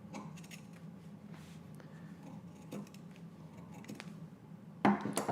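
Scissors cut through fabric for a sewing project in soft, irregular snips and rustles close by over a faint low hum, ending in a louder handling clatter, with no talk.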